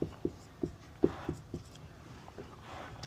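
Marker or chalk strokes on a board during a physics lesson, a series of short taps and scratchy lines at an irregular pace, close and fairly clear with no talk over them.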